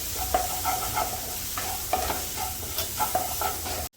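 Pre-cooked beef pieces with pepper fry in a hot pan, with a steady close sizzle broken by repeated scraping stirs at an uneven rhythm; no voices.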